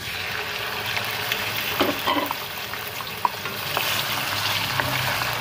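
Half a kilo of mutton frying in hot spiced oil for an aloo gosht, with a steady close sizzle and occasional clinks and scrapes as it is stirred; no voices.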